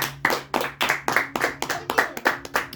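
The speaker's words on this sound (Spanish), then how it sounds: "Démosle un fuerte aplauso a la palabra del Señor." A church congregation claps together in steady, rhythmic unison, about ten sharp beats spread evenly over a few seconds with a faint tone underneath, moderately loud and close.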